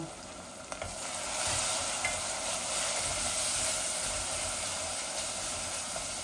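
Half-cooked onions with ginger and garlic sizzle steadily in a pan, a loud, even hiss that swells slightly midway, with occasional stirring and no talking.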